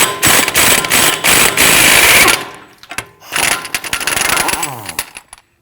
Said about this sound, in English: Remove your axle nut using a 32mm socket.